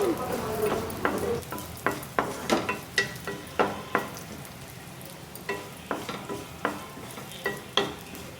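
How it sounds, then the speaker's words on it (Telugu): Chopped almond pieces are fried in a pan for rava laddu, with a spoon scraping and knocking against the pan in a steady rhythm over a soft sizzle, paused briefly mid-way. "కట్ చేసుకున్న బాదం పలుకులు వేసుకోవాలండి. ఇవి కూడా తిప్పుకుంటూ ఫ్రై చేసుకోవాలి."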